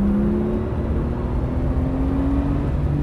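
A Porsche Turbo S engine pulling hard on a race track, a loud close continuous roar with a steadily rising tone as the car accelerates out of a corner.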